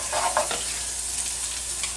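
Chopped garlic sizzles in a hot pan beside baby bok choy, a steady bright hiss with a few soft stirring scrapes early on, close and continuous, with no talking.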